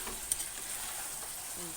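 Spice paste sautéing in oil in a pan, a steady soft sizzle throughout with one brief scrape or stir partway through, no talking.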